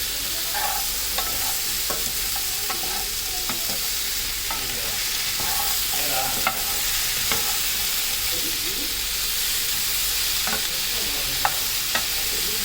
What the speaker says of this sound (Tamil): ஓரளவு அந்த மசாலா எல்லாமே நல்லா கலக்கிற மாதிரி நம்ம வதக்கி விட்டுக்கலாம்